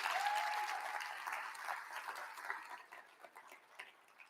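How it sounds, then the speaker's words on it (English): Audience applause at a keynote session, a dense crowd clapping loudly at first, then thinning into scattered, quieter claps toward the end. "So how about a round of applause for the bosses here?"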